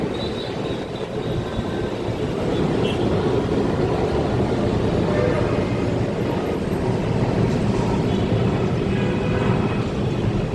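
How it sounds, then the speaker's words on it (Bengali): An airplane passes overhead, unseen above clouds on a cool, windy day, producing a steady broad rumbling roar that stays fairly loud throughout with wind noise. "একটা প্লেন আসতেছে এখান দিয়ে"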